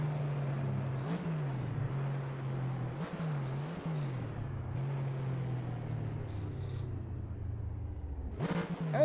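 Steady droning car engine held at top speed on the Shutoko Expressway in a video game, a constant low hum with slight pitch wobbles, ending in a brief louder burst.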